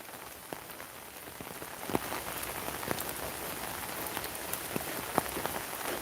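Heavy rain falls steadily as a dense, even hiss of drops on surfaces, with scattered louder drips and taps standing out throughout; no voices.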